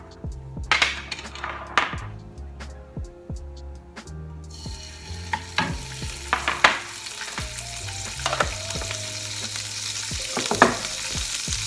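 Food fries in bacon grease in a pan, a steady hiss and sizzle that swells partway through, with a utensil clinking and stirring against the pan up close.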